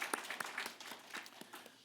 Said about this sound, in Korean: 이분들을 위해서 우리 박수로 한번 환영하는 시간 갖겠습니다